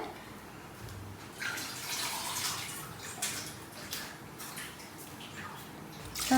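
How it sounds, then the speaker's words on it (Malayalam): Water is poured into a pan of chopped yardlong beans, a steady splashing and gurgling pour that runs for several seconds at moderate, close loudness with no talk over it. "ഇട്ട് കൊടുത്തിട്ട് നമുക്ക് ആവശ്യത്തിന് വെള്ളം ഒഴിച്ചിട്ട്"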